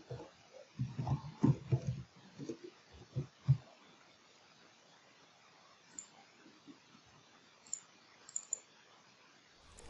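Clicking keystrokes on a computer keyboard as a name is entered, a dense burst of taps in the first few seconds, then a few scattered isolated clicks over a quiet background.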